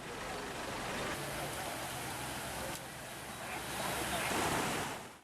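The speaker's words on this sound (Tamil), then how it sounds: "இதனால் கிராமத்திற்கு செல்லும் தரைப்பாலத்தில் வெள்ளம் ஓடுவதால்" Floodwater rushes over a village causeway after heavy rain, roaring continuously in a dense, steady wash, loud and close, with wind buffeting the microphone.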